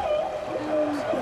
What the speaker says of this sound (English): Humpback whale? Yes, humpback whale.